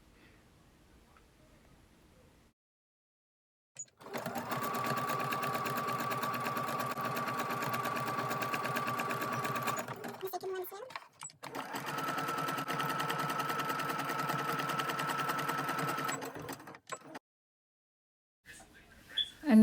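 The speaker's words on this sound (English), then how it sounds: "we're gonna sew along the side using a zigzag stitch" A sewing machine runs a zigzag stitch along the side of a fabric face mask with a filter pocket, in two long steady bursts separated by a short pause, close and fairly loud with quiet gaps before and after.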